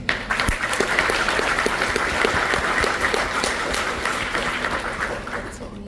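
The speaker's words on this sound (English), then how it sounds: "Please give them a round of applause for a job well done." A crowd applauds steadily at an army graduation ceremony, a dense patter of many hands clapping in a large space with faint voices mixed in, tapering slightly at the end.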